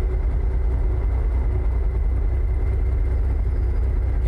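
A heavy truck with a Detroit DD60-series diesel engine in a Peterbilt 389 pulling a livestock trailer in American Truck Simulator, droning at a steady low rumble, loud and continuous with no talking.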